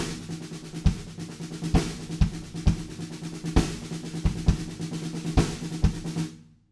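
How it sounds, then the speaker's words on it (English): Loud drum kit groove, with a busy snare roll under sharp accented hits landing regularly and kick drums below, then a cymbal wash that fades out at the end. "the bridge has this big snare roll section that kind of builds and builds"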